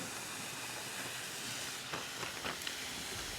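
A ribeye steak sizzles on a Ninja Woodfire grill beside onions, a steady, fairly quiet hiss with a few faint crackles and pops near the end.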